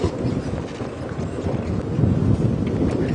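Strong, very cold wind buffets the microphone on an early-morning safari drive in a constant, rumbling roar, gusting slightly louder toward the end, with no voices.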